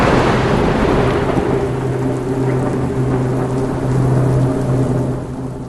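A thunderstorm pours steady heavy rain while low thunder rumbles continuously close by, loud and unbroken, with no voices.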